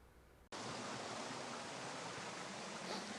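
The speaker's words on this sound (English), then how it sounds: "It's quite a loud sound of gushing water here." Loud, steady gushing of water at an outdoor water feature, starting abruptly after a brief quieter moment and then roaring on as a dense, continuous wash close by, with no voices.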